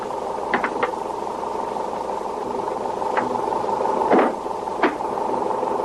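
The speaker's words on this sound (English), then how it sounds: "Oh, the motor's still running" A diesel truck engine idles with a steady, even rumble that holds throughout, broken by a few faint clicks and knocks.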